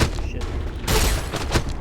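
Gunfire in the video game Fallout New Vegas comes as a dense burst of shots over a noisy backdrop, loud and close across the short stretch.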